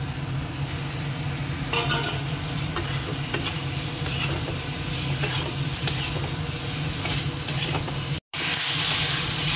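Potatoes sizzle and fry in hot spice masala in a pan, giving a steady loud hiss with stirring scrapes. The sound cuts out briefly near the end and then resumes.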